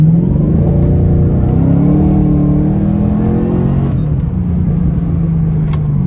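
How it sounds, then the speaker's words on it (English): A supercharged ZL1 Camaro engine revs up and holds at a loud, close rumble, with a rising supercharger whine riding over the roar before it settles into a steady idle. "That supercharger whine, I love it."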